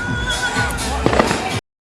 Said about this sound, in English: Look, they're blowing up fireworks right there.